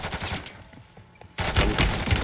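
Shotgun blasts and rapid gunfire in the video game Warzone, Plunder mode, loud bursts at the start and end with a quieter gap between them.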